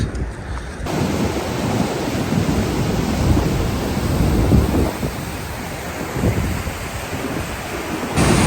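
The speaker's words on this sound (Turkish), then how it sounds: "Şimdi şelaleye geldik." Manavgat waterfall in Turkey roars as a loud, continuous, dense wash of falling water with a deep rumble, steady throughout with no talking.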